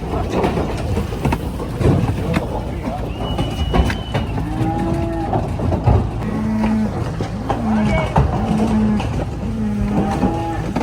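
Cattle arriving at a ranch moo repeatedly over a steady engine rumble, several low drawn-out calls from a herd at moderate distance, with occasional voices.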